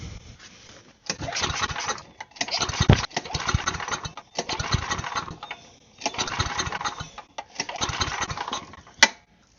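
A snowblower engine with suspected bad fuel, being set up to power a go-kart, cranks in repeated bursts of about a second each, catching and running roughly between short pauses, loud and close.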